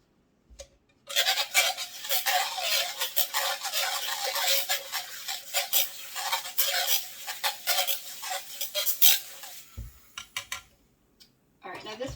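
A handheld milk frother whirs steadily in a cup of cold water for a lucky leprechaun tea, a dense buzzing churn with faint clinks, running for about nine seconds before stopping.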